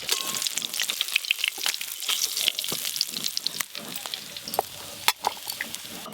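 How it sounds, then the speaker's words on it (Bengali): Fish fry in a pan of hot oil with a dense, crackling sizzle broken by sharp pops and occasional stirring scrapes, close to the pan and busy throughout. "এতগুলো মাছ ভাজলাম, তেল কিন্তু একই আছে, ওই একই তেলে বাচি মাছগুলো এবার ভেজে নেব"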